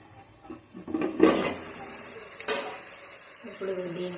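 Onions frying in a pan for a home-style chicken curry with palak, a soft sizzle under scattered stirring scrapes and a couple of sharper utensil knocks against the pan.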